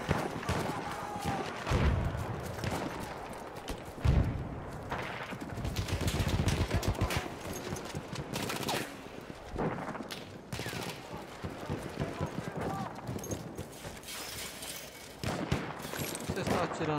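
Battlefield 1 multiplayer battle with dense gunfire, repeated rapid rifle and machine-gun bursts plus heavier booms, loud and continuous throughout, with occasional voices mixed in.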